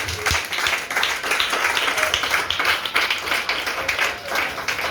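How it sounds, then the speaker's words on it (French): A church congregation applauds, a dense, steady wash of many hands clapping together that carries on without pause and stays fairly loud throughout. "Acclame Jésus"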